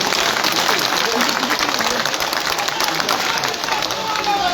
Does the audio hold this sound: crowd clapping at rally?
yes